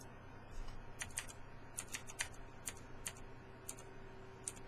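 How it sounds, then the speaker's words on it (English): Keys on a mechanical keyboard clack close by in quick, uneven bursts, sharp clicky strokes over a quiet background hum. "Yes, I have a mechanical keyboard that you can hear."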